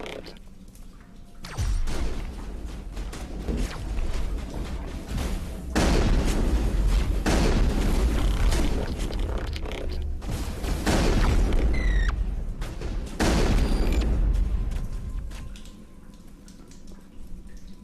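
Combat against Geth snipers in the Mass Effect video game: heavy booming shots and crackling weapon bursts come in several loud waves, separated by quieter stretches of background hum.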